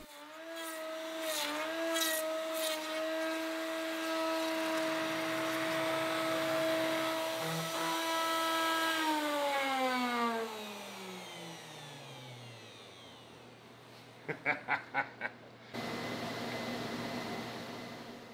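A router mounted on a slab flattener sled whines loudly at steady speed, then its pitch slides downward as it spins down, followed by a few rapid clicks and a low residual hum.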